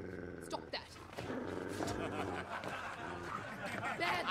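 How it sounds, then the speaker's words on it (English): A dog growls low and rumbling, with some barking, in a film scene while people talk over it. "Bad dog."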